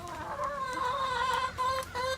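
Chickens in a backyard coop squawk and cluck loudly and close by, a continuous agitated chorus of overlapping calls with no talking.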